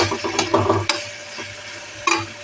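Khichdi being stirred in a pot, a spoon scraping and clattering in uneven bursts over a light sizzle, with a sharp knock near the end.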